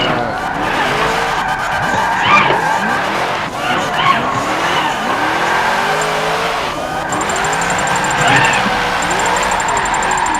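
Car spinning out in a racing video game, its tires skidding and squealing in long sweeping, wavering tones over a steady engine drone, continuous and fairly loud with brief pitch swoops.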